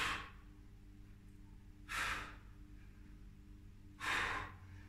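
During a no-equipment workout, two sharp, breathy exhales about two seconds apart are heard close up, each a short forceful puff over a quiet background, with no talk.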